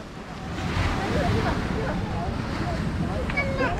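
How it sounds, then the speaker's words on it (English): Sea waves rolling onto Kovalam Beach in Kerala at night, a broad continuous wash of surf with wind buffeting the microphone, steady and moderately distant. "But you can hear the sound of the sea."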